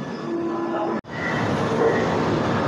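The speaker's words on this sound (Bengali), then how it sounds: "তো কিষানগঞ্জ থেকে ট্রেন ছেড়ে দিল" The Kolkata to Agartala Garib Rath Express passenger train departing Kishanganj station, a loud, steady rolling rumble heard close up with one brief cut.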